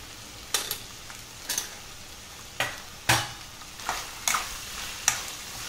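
A spoon scrapes and taps against a pan in a slow, evenly spaced series of about eight strokes as turmeric powder and salt are mixed in, each stroke close and crisp over a quiet sizzle.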